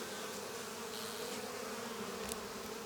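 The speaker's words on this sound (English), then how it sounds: "These are actually buckfest bees" Buckfast honeybees hum steadily at a long-established healthy hive, a continuous close drone at even loudness with a faint brief rise near the end.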